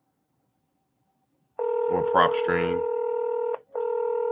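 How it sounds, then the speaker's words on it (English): A phone's outgoing ringback tone sounds while placing a follow-up call to a property seller, a steady two-tone ring that breaks off briefly and resumes, with someone talking over it. "Another thing while the phone's ringing"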